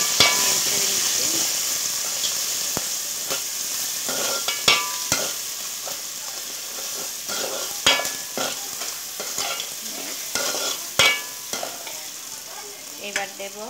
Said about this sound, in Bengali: এবারে আমি এখানে একে একে আদা, হলুদ একটু নেড়ে ছেড়ে নিচ্ছি।